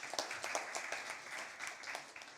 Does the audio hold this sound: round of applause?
yes